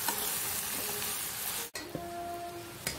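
Chili powder being stirred into oil in a hot pan, a steady close sizzle and crackle with soft scraping stir strokes throughout, no voices.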